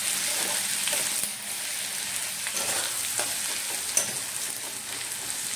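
Spice masala fries with potatoes over a low flame, a steady soft sizzle with occasional stirring scrapes and one small clink, moderately faint and alone.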